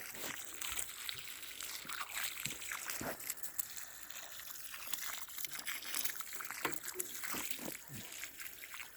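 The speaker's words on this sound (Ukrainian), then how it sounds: "Попередньо проляємо водичкою." Water poured onto dry garden soil around garlic plants, a steady splashing wash with short surges of pouring, running continuously under occasional speech.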